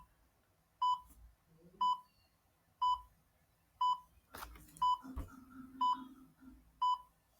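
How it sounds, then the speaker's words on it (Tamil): A countdown timer gives short, high beeps at an even one-per-second pace, seven in all, faint against a quiet room with a brief rustle partway through. "வாங்க டைமர் ஸ்டார்ட் பண்ணிடலாம்."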